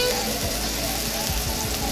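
Keto teriyaki chicken sizzles and crackles steadily in a pan as sauce is added and cooks down, a continuous close frying hiss with no talking.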